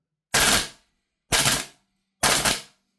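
An HK416A5 rifle with an MWS magazine fires full auto in three short, loud, evenly spaced bursts, each about half a second long, separated by silence.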